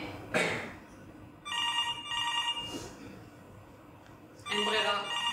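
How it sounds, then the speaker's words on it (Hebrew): An office desk telephone rings in repeated bursts, each electronic trill lasting about a second with short gaps between, at moderate loudness with soft room sound and faint voices. "הטלפון מצלצל."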